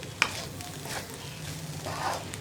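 A spatula stirs spring onion stir fry (thoran) in a pan with soft scraping strokes over a low, constant sizzle, close and quiet, with one brief sharp clink near the start.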